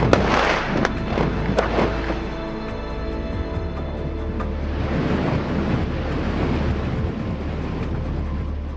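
Charged explosives detonated for freeway construction on the Dubai–Fujairah road, heard as loud sharp cracks and booms early on, followed by a sustained broadband rumble of debris and echoing blast noise, with no talk.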